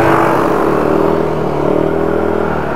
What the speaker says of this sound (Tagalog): Maandar na yung motor ni boss.